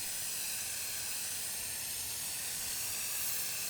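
NeverWet two-part water repellent sprayed steadily from an aerosol can, one continuous close hiss lasting several seconds, fairly loud and with no talking over it.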